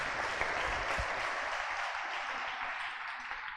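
Strong, sustained applause from a church congregation at a Spanish and Q'anjob'al sermon, a dense even wash of many hands clapping together, steady and loud throughout before tapering slightly.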